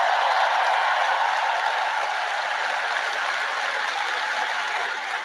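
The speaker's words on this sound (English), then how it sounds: "let's give a big round of applause to the leaders of this state who chose liberty over lockdowns" A large commencement audience at the University of Alabama applauds, producing a steady, dense wash of clapping that holds loud and even before tapering slightly at the end.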